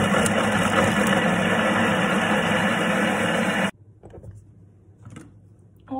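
A Thermomix food processor whirs loudly and steadily at speed 5, blending a dough mix with olive oil, then stops abruptly, leaving faint clicks and quiet room sounds.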